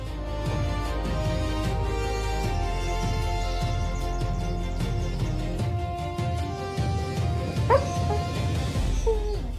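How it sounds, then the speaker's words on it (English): African wild dogs on the savannah bark and yip in a steady run of short, overlapping calls with whimpers mixed in, fairly close and loud, with an excited cluster of high yelps near the end. "African wild dogs, the stealthy hunters of the plains, move forward with unwavering focus."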